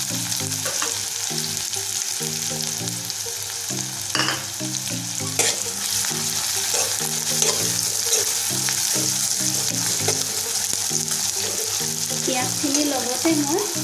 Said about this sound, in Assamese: এতিয়া মই ইয়াত এই কাটি লোৱা পিঁয়াজখিনি দি দিম।